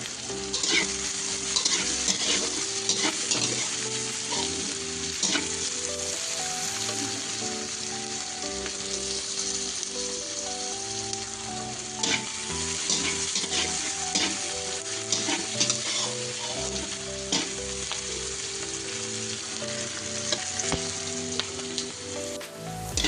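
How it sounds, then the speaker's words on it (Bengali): Onions fry in mustard oil in a wok over a tempering of cumin and dried red chillies for a Bengali chicken and potato curry: a loud, steady sizzle with stirring scrapes throughout, over soft background music and with no talk. "পেঁয়াজটা ভালো মতো ভেজে নেবো"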